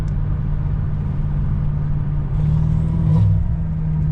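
A tuned BMW M5 with 741 horsepower, its engine a loud, deep rumble heard from inside the car, building in intensity midway as it accelerates.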